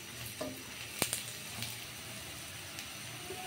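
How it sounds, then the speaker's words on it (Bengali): Spinach-plant fruit (pui shak) is fried with turmeric and salt in a pan, making a low, steady sizzle broken by a sharp utensil tap and a few soft stirring scrapes. Nobody speaks. "আর নেড়ে চেড়ে দেব"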